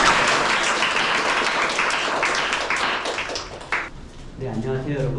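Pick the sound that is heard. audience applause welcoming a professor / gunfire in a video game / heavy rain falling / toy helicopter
audience applause welcoming a professor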